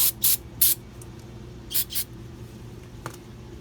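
Several short sharp spray bursts of cleaner aimed at the brake parts of a 2004 Mazda Tribute, two quick blasts, a pause, then two more, over a quiet hum in a garage.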